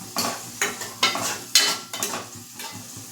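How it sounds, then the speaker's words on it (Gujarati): Okra stirred with salt and masala in a hot pan, giving a steady run of close scraping stirs with soft sizzling, repeating every half second or so. "મીઠું એડ કરીશું અને ફરી તેને બરાબર મિક્સ કરી લેશું જેથી જે મસાલો છે તે ભીંડા પર બરાબર લાગી જાય"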